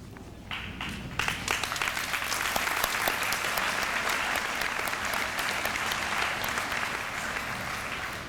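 Sustained crowd applause rings out at the 2005 West Oak Middle School eighth-grade graduation ceremony, thick and even clapping from many hands that holds steady for the whole stretch.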